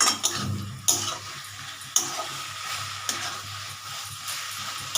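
A spoon stirs banana stem curry in a pan, giving a few sharp scraping knocks against the metal over a low, continuous sizzle, close and clear with no talking.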